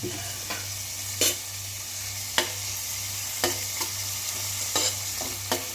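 Onions and tomatoes sautéing in a pan, a steady soft sizzle broken by periodic sharp scrapes and taps of a spatula stirring.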